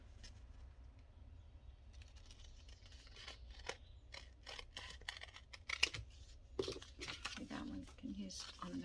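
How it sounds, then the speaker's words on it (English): Scissors snip through paper in a run of quick, crisp cuts, close by and fairly quiet, with faint talking in the background. "I guess I'll just cut it with scissors."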